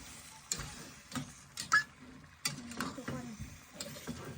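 A spatula clacks and scrapes in a pan at an uneven pace while pork, green beans and panang red curry paste are stir-fried, with a faint sizzle between the strikes.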